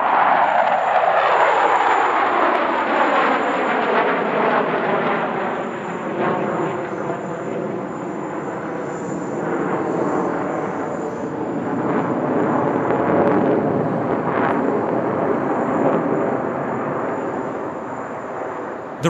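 Russian Knights aerobatic team jets fly past at the Dubai Airshow, a loud, sustained jet roar with a falling pitch sweep at the start, then a continuous powerful rumble that slowly fades.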